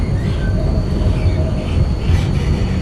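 An ULF tram running on rails in City Transport Simulator, a loud, steady low rumble of wheels on track with faint squealing tones, continuous and close.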